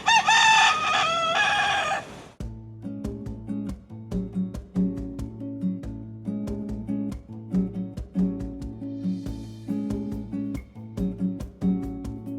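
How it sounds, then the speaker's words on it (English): A rooster in Key West, Florida, crows once, loud and close, for about two seconds; rhythmic music follows. "We spotted our first rooster. He's a loud one."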